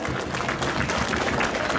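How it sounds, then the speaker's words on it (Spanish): Guests at a quinceañera party applaud, a continuous wash of many hands clapping that fills the room evenly, heard alone without voices on top. "Los aplausos,"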